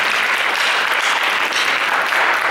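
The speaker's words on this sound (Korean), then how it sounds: "이제 큰 박수로 이들을 격려해 주시면 감사하겠습니다" A church youth-service congregation claps in steady, sustained applause that is loud and close, with no talk over it.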